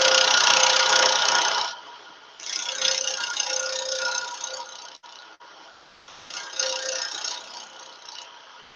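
A hand gouge carving wood on a Minnie Mouse figure makes close, steady rasping scrapes in three long bursts, separated by brief pauses.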